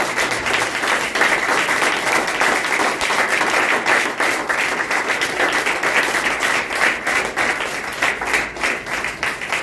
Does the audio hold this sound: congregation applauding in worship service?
yes